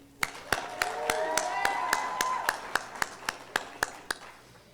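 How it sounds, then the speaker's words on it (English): Applause at a charity fundraising luncheon comes as a steady run of crisp, evenly paced claps, moderately close, over a soft wash of room noise and a talking voice. "let's give them another round of applause for their commitment to our annual giving"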